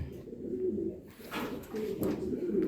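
Racing pigeons cooing nearby in repeated low, throaty coos that come in overlapping bursts, with faint background noise and a hint of voices.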